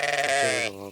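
A lamb bleats once, close and loud, a wavering cry under a minute long, out in a dry grazing field where a sheep flock is short of fodder.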